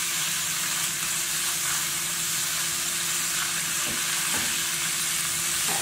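Liver, heart and kidneys fry in a pan with a steady, close sizzle, the meat being stirred with a few soft scrapes.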